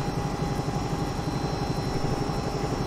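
A helicopter flies in the X-Plane 11 flight simulator, its steady rotor thump and turbine whine droning continuously and loud across the whole stretch, with no talk.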